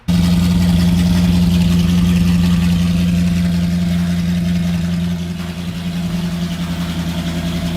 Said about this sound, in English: Here's just another exhaust clip.